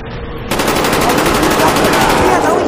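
Rapid automatic gunfire in a zombies video game, a loud continuous stream of shots that starts abruptly after a brief quieter moment and runs steadily to the end.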